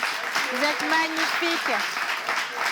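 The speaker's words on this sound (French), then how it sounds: "Les enfants, on va s'applaudir pour se dire merci." Children and adults in a group applauding, a steady spread of clapping that runs throughout while someone speaks over it.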